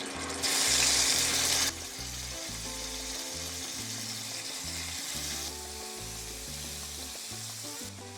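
Meat drops into hot melted lard in a pan and sizzles with a sharp burst, then settles into a steady, close frying hiss.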